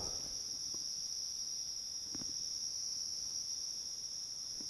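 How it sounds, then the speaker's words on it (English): A steady high insect drone of cicadas and crickets fills the background, continuous and even, with a few faint soft thumps nearby. "sorry if you can hear the cicadas and the cricket"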